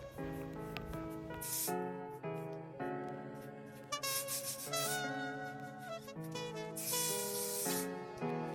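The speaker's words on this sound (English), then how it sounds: "this is the spray that I'm going to be using to glue my cap down" A wig glue spray is aimed around the hairline to glue down a braided wig cap. Three short hissing bursts of spray sound over background music.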